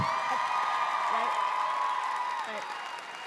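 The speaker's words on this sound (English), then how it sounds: "can we first please give a huge round of applause" At a GalaxyCon convention Q&A, the audience claps and cheers in a sustained round of applause while a voice talks over it and the crowd noise fades slightly toward the end.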